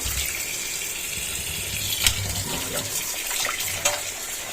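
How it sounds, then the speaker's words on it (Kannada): Fish being washed under running water, a steady splashing flow from a tap with a couple of louder splashes as the fish is rinsed, close by and with no one talking. "ನೀರಾಗಿ ಒಂದು ಟೂ ತ್ರೀ ಟೈಮ್ಸ್ ತೊಳ್ಕೊಳ್ಬೇಕು"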